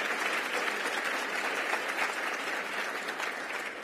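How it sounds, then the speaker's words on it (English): A large audience at a Boston municipal research bureau annual meeting claps for the premier sponsors, dense sustained applause that holds at an even level from start to finish. "A round of applause"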